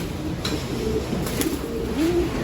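Pigeons cooing in a loft, soft repeated throaty coos rising and falling close by, over a steady background hum.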